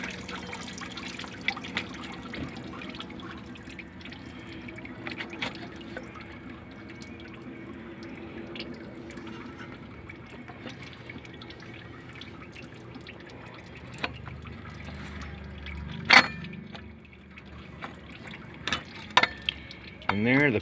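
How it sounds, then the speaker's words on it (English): Engine coolant drains from a 1996 Jeep into a bucket during a water pump replacement, a faint steady trickle and drip running throughout with occasional louder splashes and knocks near the end. "I wasn't expecting that much coolant to come out, but I had a bucket handy in case it did."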